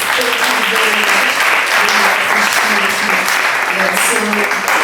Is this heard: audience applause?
yes